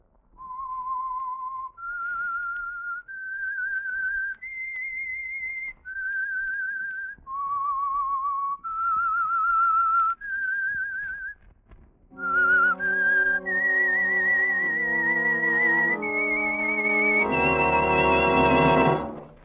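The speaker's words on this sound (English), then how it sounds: "That whistle is your signal for the Signal Oil Program, The Whistler." A whistled theme signal from the old-time CBS radio mystery program The Whistler, its solo whistled melody moving through held notes, then joined by an orchestral accompaniment that swells louder toward the end.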